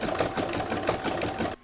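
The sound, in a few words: embroidery sewing machine stitching a Christmas placemat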